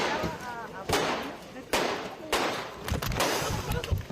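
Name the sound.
six gunshots fired by a woman, news recording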